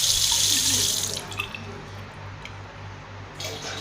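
Water gushes strongly from a home tap just repaired for a pressure and leak problem, a loud steady hiss that is shut off after about a second, leaving a faint low hum and a brief splash of water near the end.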